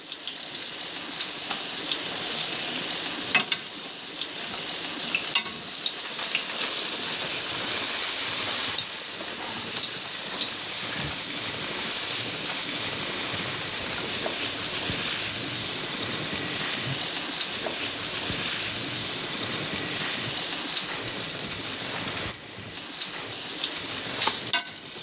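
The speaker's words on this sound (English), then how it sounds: "they get nice and brown right away and they don't need all that much frying" Zucchini slices fry in a hot pan, giving off a continuous, even sizzle and crackle that holds steady throughout with no talking.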